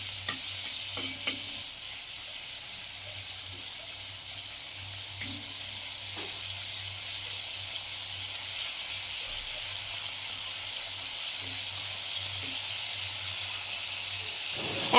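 Prawns frying in a pan with a little salt give off an even, continuous sizzle and hiss at moderate distance. It holds steady throughout with a few faint clicks and no voices.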